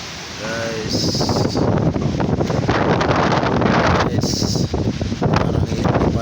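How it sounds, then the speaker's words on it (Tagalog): Strong typhoon wind during Typhoon Rolly, with no rain, roars and buffets the microphone continuously, with rustling gusts throughout and a couple of brief high tones in the background. "Walang ulan guys, pero malakas ang hangin."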